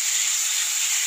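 Marinated chicken 65, coated in masala and rested for an hour, sizzles in a hot pan with a steady, loud, even hiss that holds without a break and with no voices.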